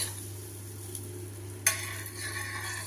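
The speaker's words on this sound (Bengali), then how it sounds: "তেল দিয়ে হালকা করে ভেজে নেবো" A rolled flatbread frying lightly in oil in a home kitchen, a soft steady sizzle under a low hum, with a brief utensil scrape and stir midway before the frying noise grows a little.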